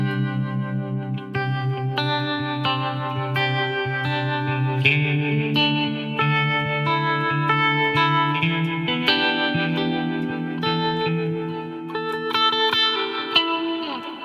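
Electric guitar running through a Strymon Flint reverb and tremolo pedal with both effects engaged, sustained chords swelling and pulsing in a wash of reverb, played steadily and loud with no talking.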